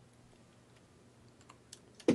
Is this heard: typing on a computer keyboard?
yes